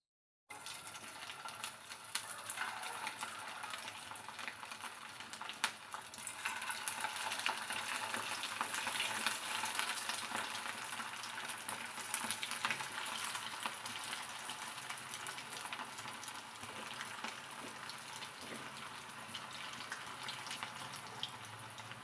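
Masala-marinated prawns deep frying in oil for prawn Manchurian, a steady broad sizzle and crackle that holds continuously and fairly softly throughout.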